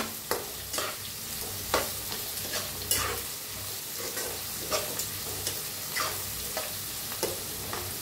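Flattened rice (poha) roasting in hot oil with turmeric, stirred steadily in a pan: a continuous soft sizzle punctuated by regular scraping strokes of the spoon, close and moderately loud, with no talking.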